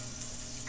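Korean beef sizzling in oil on a grill, a steady close crackling hiss that fills the short moment with no talk over it.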